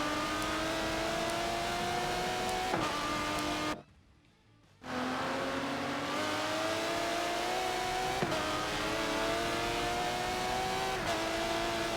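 An Aston Martin DBR9 race car accelerating hard at Silverstone, its engine note rising steadily through repeated gear changes, with a brief drop-out midway before the loud onboard roar resumes.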